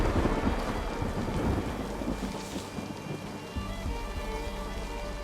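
Steady rain falls with rumbling thunder in the Blair Witch video game, a continuous moderately loud downpour layered with low rolling thunder and no talking.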